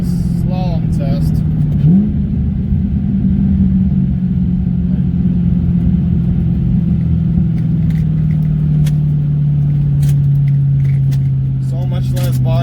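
A 2006 Mustang GT fitted with SVE Performance coilovers weaves through a slalom, its engine holding a loud, steady in-cabin drone with slight pitch shifts, and a voice is briefly heard near the start and end.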